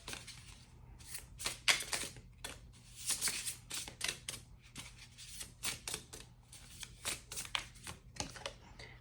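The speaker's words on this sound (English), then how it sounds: "this entire time I've been shuffling" Tarot cards being shuffled up close, repeated soft riffling bursts with short gaps between them, fairly quiet against a faint low hum.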